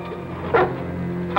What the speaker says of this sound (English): Nice doggies.